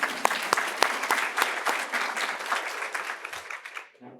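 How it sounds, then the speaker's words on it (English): An audience at a Chicago Public Library talk breaks into applause, starting with a few sharp, distinct claps and then swelling into steady clapping that fades out after about four seconds, ending with a brief voice. "Yep, you can clap for that one."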